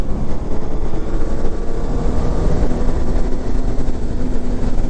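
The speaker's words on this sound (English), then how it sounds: "Full throttle. So downshift, downshift." Honda Gold Wing DCT motorcycle engine at full throttle in sport mode, a loud, steady roar with wind rush through a rapid downshift, no voices over it.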